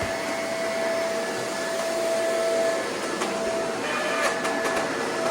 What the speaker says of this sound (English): It grinds a lot more on this carpet. Yeah, that's definitely the front roller.